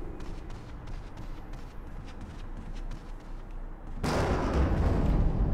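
Low ambient rumble in the video game Resident Evil HD breaks abruptly into a loud, broad roar of thunder from a lightning strike that keeps rolling to the end.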